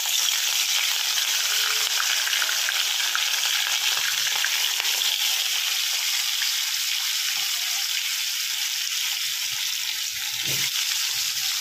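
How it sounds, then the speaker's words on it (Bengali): Pieces of rohu fish sizzle steadily in hot oil in a wok, a loud, continuous frying hiss with a few faint clinks near the end. "তেল দিয়ে এবার আমি মাছটা আস্তে আস্তে ভেজে নেব।"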